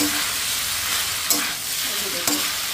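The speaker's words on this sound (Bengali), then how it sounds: "পাস্তাটা দিয়ে এখন আমি একটু নেড়ে চেড়ে ভালো করে সবজিটাকে মিশিয়ে নেব পাস্তাটার সঙ্গে" Pasta and vegetables are stirred together in a hot frying pan at home, a steady close sizzle running beneath two short scraping clicks from the spoon, with no talking.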